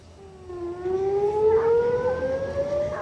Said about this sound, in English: sirens blared across central Israel and Jerusalem on Saturday morning